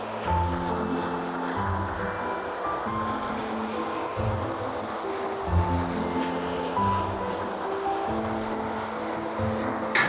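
Waterfall on the River Twiss along the Ingleton Waterfall Trail, rushing in a steady broadband roar that continues unbroken and close throughout, with no voices.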